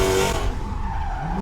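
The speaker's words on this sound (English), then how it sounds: "drifting" Car tires squeal and skid briefly during drifting, a loud close screech with engine noise underneath.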